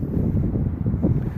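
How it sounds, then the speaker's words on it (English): Wind gusting across a rooftop above a two-story front porch, a continuous low rumbling buffet against the microphone, loud and close, with no voices. "the wind blew my cushions down"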